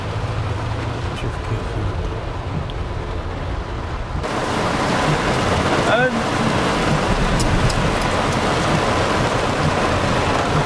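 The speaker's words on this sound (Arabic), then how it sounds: "مطر قوية جدا" Heavy rain falls in Jeddah as a steady, dense hiss with wind rumbling against the microphone. Midway through it suddenly becomes louder and fuller, and a faint voice is heard briefly.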